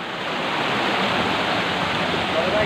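Water pours steadily at the Boroitoli waterfall in Bangladesh, a dense, even roar of falling water that fills the whole stretch at fairly loud volume, close by and without breaks.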